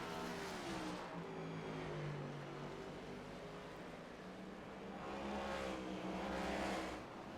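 A race car moves through the S's at Watkins Glen, its engine note droning and shifting in pitch as it climbs and swells again toward the end, fairly faint and distant.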